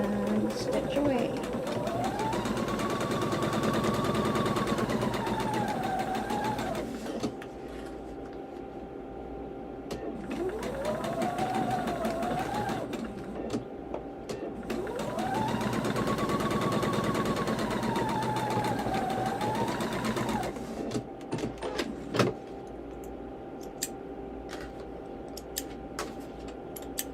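A sewing machine stitching a foundation paper pieced ribbon star quilt block, running in long whirring bursts that speed up and slow down, with short pauses between, while a person talks throughout.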